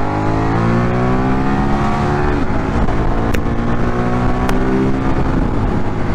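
A water-cooled Ducati Monster 1200 S V2 motorcycle engine revs loudly and close, its deep rumbling note rising and falling in steady harmonic sweeps with no voices over it.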